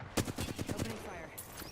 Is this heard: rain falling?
no